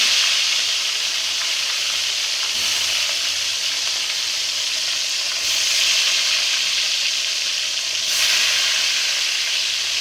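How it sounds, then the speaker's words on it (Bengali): Fish pieces frying in hot oil for a home-style Bengali fish curry, giving a loud, steady broadband sizzle that swells briefly a few times as more pieces are slipped into the pan, with no talking. "তেল কিন্তু গরম হয়ে গেছে, এবার কিন্তু আমি মাছগুলো ছেড়ে দেবো একটা একটা করে।"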